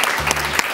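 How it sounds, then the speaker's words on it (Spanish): Studio audience of a television show gives a short burst of loud, dense applause. "le hemos dado un fuerte aplauso a María"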